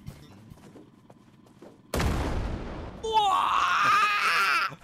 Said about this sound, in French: Il y a le souffle d'explosion qui t'a dégagé.